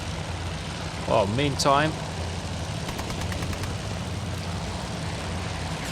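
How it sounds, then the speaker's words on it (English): Steady droning engine of a fighter plane in Task Force Admiral, a constant hum throughout with someone talking briefly over it. "we've got one of our fighters in trouble. Going down in flames."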